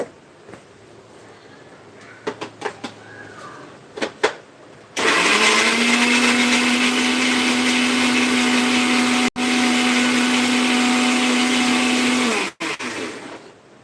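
Light clicks and taps, then a mixer grinder grinding onion and tomato roars to life with a steady high whine for several seconds, briefly cutting out once before stopping.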